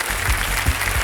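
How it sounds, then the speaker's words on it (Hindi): Studio audience on Kaun Banega Crorepati Season 14 bursting into loud, sustained applause to welcome the contestants, a dense wash of clapping that holds steady across the short moment. "जोरदार तालियों के साथ इनका स्वागत किया जाए"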